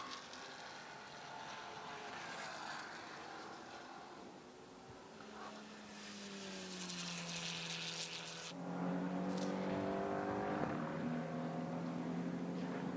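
Porsche GT4 race cars on the Nurburgring track, engines droning at a distance with rising and falling pitch as cars pass, growing louder toward the end, steady and fairly faint.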